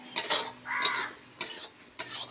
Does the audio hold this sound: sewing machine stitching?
no